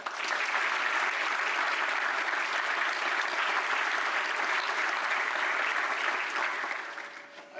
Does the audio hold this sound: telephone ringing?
no